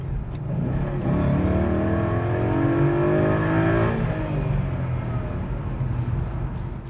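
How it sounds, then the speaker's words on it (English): A 2011 Ford Mustang with a 5.0 V8 snarls as it accelerates, rising in pitch through a steady, strong pull before easing off as it passes. The sound is loud and continuous, with no talking. "It's also very, very smooth and has a beautiful snarl when you hit the gas."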